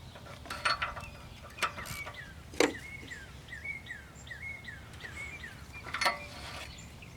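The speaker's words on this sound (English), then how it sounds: "use the ratchet to tighten it up" Ratchet tightening an oxygen sensor on a vehicle, giving a few brief metallic clicks and clacks scattered over several seconds, fairly close, with quiet background sounds between them.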